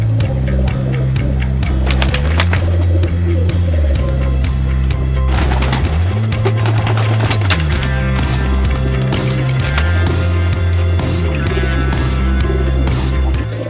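Rare fancy pigeons coo continuously, close and loud, in deep rolling repeated phrases, with scattered clattering and rustling noises throughout and no talk.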